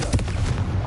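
A Confringo blasting spell detonates in Hogwarts Legacy, a short dense burst of booming, crackling blast noise with a heavy low-end thump, loud and close, fading within a second.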